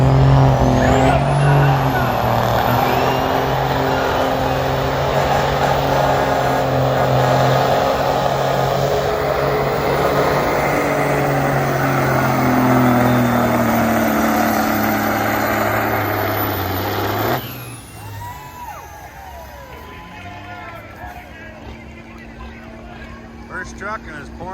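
A semi truck pulls at a truck and tractor pull in pouring rain, its engine a loud sustained roar for about seventeen seconds before cutting off abruptly, leaving quieter rain and background noise with voices.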